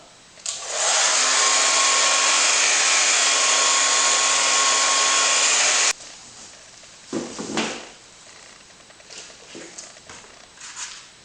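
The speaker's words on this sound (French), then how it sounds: "Je peux accélérer avec un sèche-cheveux." A hair dryer blows on freshly applied rust-effect paint over a welded, bolted relief piece. Its loud, steady close whir runs for about five seconds, then cuts off, followed by a few soft handling knocks.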